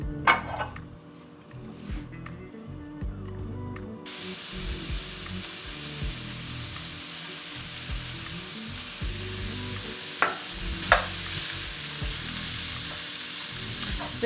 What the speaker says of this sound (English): We're going to start by cooking the chorizo.